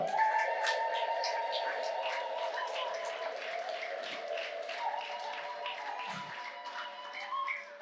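A church congregation ululates together in a long, high, wavering chorus, with scattered claps and taps sounding through the sustained trilling.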